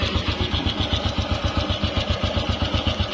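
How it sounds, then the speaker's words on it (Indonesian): A 1985 Honda Win 100 motorcycle engine idles nearby with a steady, even, rapid low thumping that holds alone and without any change across the stretch. "jenengan dengar suaranya motor mas?"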